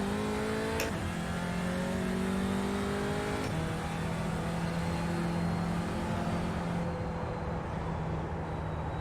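Audi TCR race car engine on the Road America circuit, revving loud and close with harmonic pitch sweeps as it drops through downshifts, a sharp blip near the start and another shift later, steady roar throughout.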